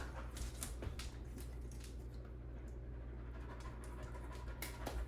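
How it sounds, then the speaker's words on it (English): A dog pants indoors in a steady, close rhythmic stream against constant room noise, with a few brief higher yelps or whimpers mixed in. "Gotta let the dog in."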